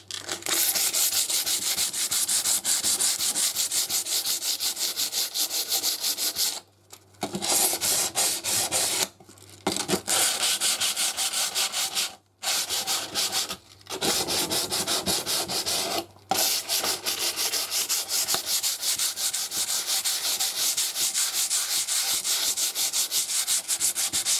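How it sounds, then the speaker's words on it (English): Fine sandpaper rubbed steadily over the varnished surface of an old item, a close, loud, continuous rasping scrape broken by a few brief pauses between strokes. "start off by sandpapering over the entire surface. So I'll do that, and I'm just going to use a fine sandpaper."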